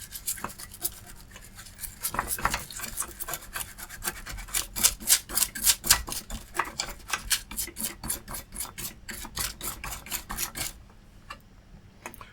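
Brush scrubbing a corroded circuit board with isopropyl alcohol, a rapid rhythmic rasping at close range that speeds into steady strokes, then stops abruptly near the end.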